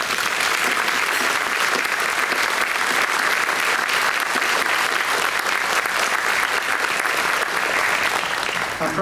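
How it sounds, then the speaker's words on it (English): A large dinner crowd at a university alumni reunion banquet applauds a group of sisters. The clapping is steady and full, holding at an even level for several seconds. "Please give them a round of applause."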